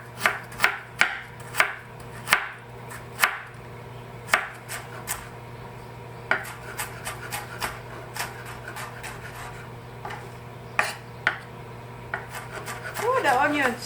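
A knife chops ginger on a wooden board in a run of sharp, close knocks, quick at first, then more spaced and irregular, with some scraping and rubbing near the end.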